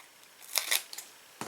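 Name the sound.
scissors cutting paper for bookmark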